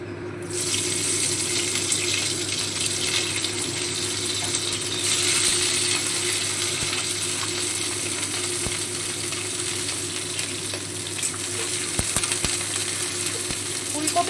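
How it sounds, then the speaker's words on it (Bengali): Cut cauliflower frying in hot oil in a wok, a dense, steady hiss that sounds almost like running water and holds evenly throughout, with a few faint clicks of utensils near the end. "এবারে আমরা কেটে রাখা ফুলকপিটা ভেজে নেব"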